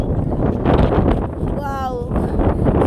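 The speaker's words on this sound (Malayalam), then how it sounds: "കാറ്റെന്ന് പറയുമ്പോൾ അടിപൊളി കാറ്റ്" Loud, buffeting wind roars against the microphone throughout, with a brief rising whistle-like tone partway through.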